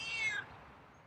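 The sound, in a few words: feral cat meowing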